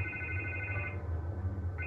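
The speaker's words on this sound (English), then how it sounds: "I can't get the phone to stop ringing." A telephone rings steadily in the Batman Telltale video game, a bright electronic ring that pauses briefly midway and then resumes, with a low background hum and no talking.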